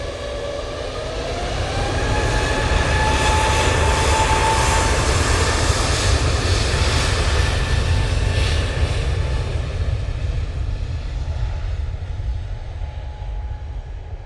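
A Jet2 Airbus A321neo jet spools up at Manchester Airport, a loud, steady roar of engine noise with a rising whine that holds for about fourteen seconds, no voices over it.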